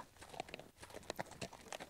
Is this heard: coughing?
no